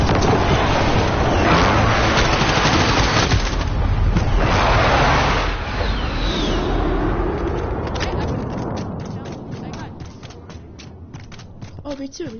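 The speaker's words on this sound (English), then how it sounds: "Friendly precision airstrike on the wing." A precision airstrike in Call of Duty Warzone brings heavy rumbling explosions that roll loud and dense for several seconds, then fade into scattered crackling blasts and debris, with players talking over it.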